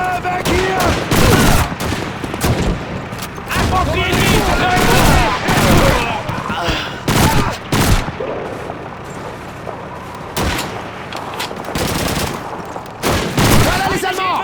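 A World War II firefight in the video game Call of Duty 2 erupts in loud, rapid bursts of rifle and machine-gun fire with heavy impacts, nearly continuous, easing briefly midway before flaring up again.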